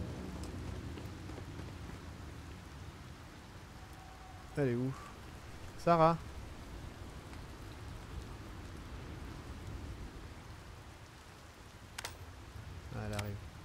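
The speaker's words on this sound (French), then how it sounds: "Tu sais qu'il pleut." Steady, soft rainfall in the video game Starfield hisses under the scene, with a few brief voice fragments and short sounds rising above the continuous patter.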